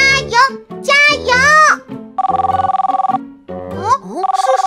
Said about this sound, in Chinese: 是谁带来的电话？